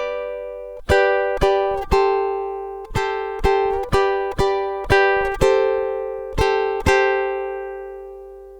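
Ukulele strumming the opening two measures of a song, a series of bright plucked chords in a steady rhythm, each ringing and decaying, played alone without voice.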